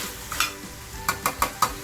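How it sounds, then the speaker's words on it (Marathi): A spoon scrapes and stirs mutton in a pan with a soft sizzle underneath, striking in a quick run of four close, distinct strokes. "असं छान परतवून घ्यायचं आहे"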